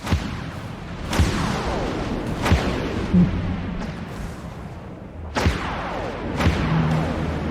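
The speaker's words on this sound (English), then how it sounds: "I launch flechettes." Flechettes launch in a space combat video game as a series of heavy booming thuds at irregular intervals over a continuous rumbling background.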